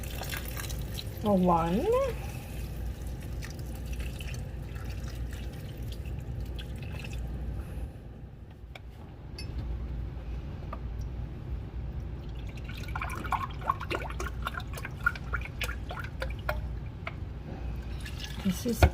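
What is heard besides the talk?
pouring vegetable stock into split pea soup pot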